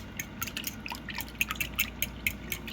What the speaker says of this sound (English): Then you kind of want to stir that up.